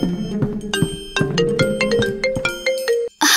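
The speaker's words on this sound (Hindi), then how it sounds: "एलिस, मैंने तुमसे कहा था ना अपना फोन बंद कर दो।" A mobile phone ringtone rings out in a classroom as a melodic sequence of bright electronic tones, loud and close, then stops abruptly near the end.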